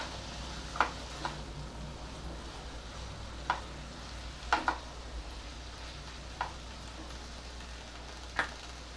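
A spoon stirs paneer and capsicum in a pan, quiet scrapes and clinks sounding at irregular intervals over a faint steady sizzle, no voices.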